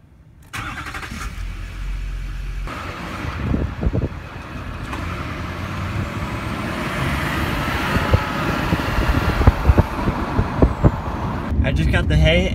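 A pickup truck drives along with a steady engine hum and road rumble, punctuated by thumps and clunks, while a person talks over it.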